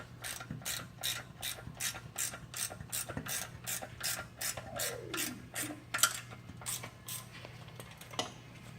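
Rapid, evenly spaced ratcheting clicks from tightening the seat clamp on an electric bike, close and steady, with a faint rubbing squeak partway through.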